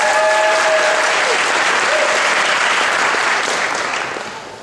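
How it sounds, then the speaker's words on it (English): A crowd claps steadily and enthusiastically for several seconds, the applause gradually fading out at the end. "Give them a round of applause."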